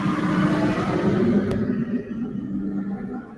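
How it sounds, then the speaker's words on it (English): A loud truck rumbles past on a downtown street in Oil City, a heavy, broad roar that swells close by and then eases as it moves off. "Ooh, that truck is loud."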